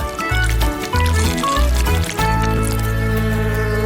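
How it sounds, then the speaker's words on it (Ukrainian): Honey and gelatin are poured into a hollowed watermelon filled to the brim, giving a close, gurgling liquid pour that stops and restarts in a few short bursts. "Заливаємо всередину кавуна до країв."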